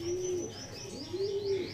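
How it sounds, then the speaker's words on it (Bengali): A pair of pigeons offered for sale, cooing close by: two drawn-out low coos, one at the start and another after a short pause, against a quiet background with no talking. "পায়রা দুটো দেখুন শুধু আপনারা"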